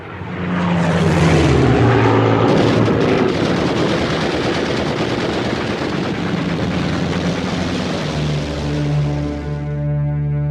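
A WWII fighter air battle: loud droning propeller engines swell and sweep past, with dense rattling bursts of machine gun fire mixed into the roar and no talk.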